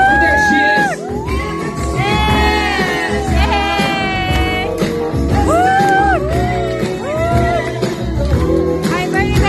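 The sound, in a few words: crowd cheering and whooping at a debut party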